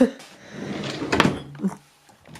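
A dresser drawer full of children's clothing such as leggings, shorts and rompers slides open with a short wooden rumble and soft knock, close by, followed by brief shuffling of garments.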